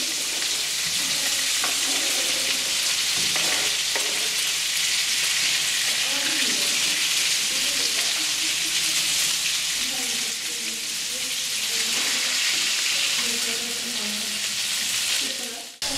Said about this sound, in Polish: Pokrojone składniki przenosimy na patelnię, na której wcześniej smażyliśmy łososia.